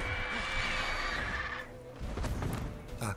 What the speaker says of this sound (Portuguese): Meu cavalo tá por ali.